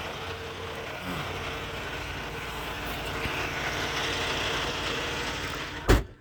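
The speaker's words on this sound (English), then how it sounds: "So he's been running his truck all night, looks like." A steady, low truck engine rumble idles continuously nearby, with a brief sharp knock near the end.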